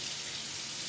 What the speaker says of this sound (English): I'm going to turn on the sink, get some warm water